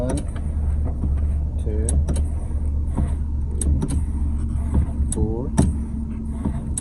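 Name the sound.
Nissan NV3500 van engine running while brake pedal pumped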